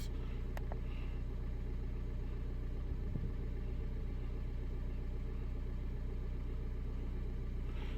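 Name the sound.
Ford Mondeo engine idling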